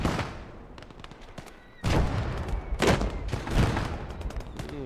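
Sniper rifle fire in the WWII game Gates of Hell: Ostfront, a few sharp loud cracks with rolling echo tails, spaced a second or so apart over distant battle noise.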